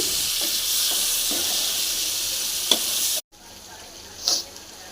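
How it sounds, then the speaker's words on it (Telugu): Eggplant pieces go into a hot pan of spiced vegetable curry, a loud steady sizzle with a few stirring knocks, then a sudden cut to a quieter frying hiss. "అయ్యో వంకాయలు వేయడం మర్చిపోయాను ఇప్పుడు వేస్తున్నా"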